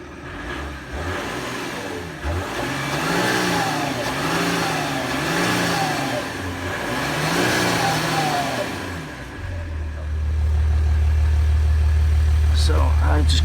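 An Audi A8L engine with its mufflers cut off revs repeatedly in loud, swelling rasps, then settles into a steady deep drone at the end. Someone speaks over it.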